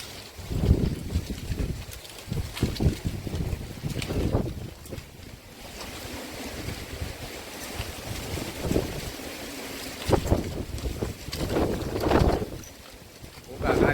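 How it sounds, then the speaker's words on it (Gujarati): Strong gusty storm wind buffets the microphone in loud, irregular rushes and roars, rising and falling over a steady blustery background. "પવન જોરદાર નીકળ્યો છે વાવાઝોડો જેવો"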